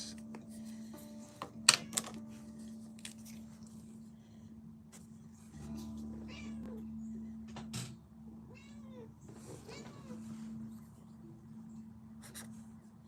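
A cat meows a few times close by during a calligraphy livestream, with pen scratching, light tapping and a steady low hum throughout.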